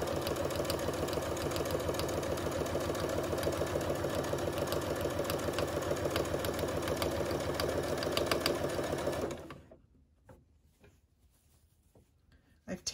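A sewing machine stitches piping onto the raw edge of outer fabric for a bolster pillow cover, a fast steady mechanical whir with a rapid needle rhythm for about nine seconds before it halts and quiet handling sounds follow.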